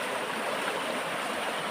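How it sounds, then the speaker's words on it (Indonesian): Fast, deep river with a strong current rushing over big rocks, a steady, dense roar of churning water that fills the whole stretch without a break. "karena arusnya sungai ini besar, arusnya deras"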